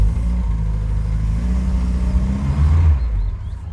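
A car engine with a freshly adjusted choke rumbles low and steady while the car reverses, a deep idling drone that fades out at the end.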